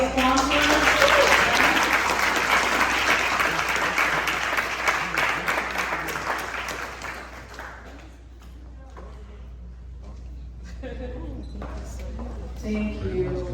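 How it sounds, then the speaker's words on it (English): Sustained applause from a large audience at a scholarship award ceremony, loud and continuous for several seconds before fading to scattered claps and voices. "If we can give a round of applause to all the sponsors."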